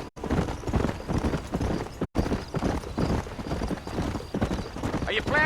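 Horse hooves clip-clop steadily at a gallop in the Western video game Red Dead Redemption, with a brief whinny, running continuously under characters' dialogue.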